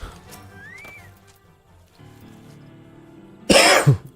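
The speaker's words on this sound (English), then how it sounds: "Coughing and shit." A sudden, harsh cough bursts out near the end, loud and close, following quieter Final Fantasy XIV game music and background sounds.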